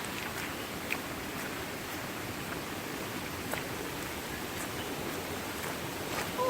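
Hurricane floodwater pours down into a drainage waterfall, a constant, fairly faint rushing hiss with no pauses and no one talking.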